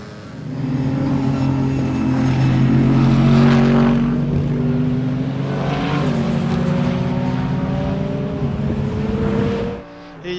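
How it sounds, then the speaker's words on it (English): Mercedes-AMG GT3 race car lapping Silverstone GP in a racing sim, heard from onboard as a loud, continuous engine drone whose pitch rises and falls through gear changes, with no talking. "aboard the Team ABBA Racing Mercedes-AMG GT3 around Silverstone GP"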